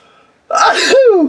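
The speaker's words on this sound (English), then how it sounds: "I'm gonna sneeze" A single loud, close sneeze bursts out after a quiet moment, with a sharp breathy explosion trailing into a falling vocal tone.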